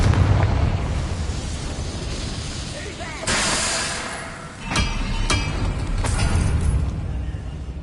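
Confringo blasting spell in the Hogwarts Legacy video game bursts out as a loud, broad explosive whoosh, followed by a few sharp crackling pops over a steady rumbling game background.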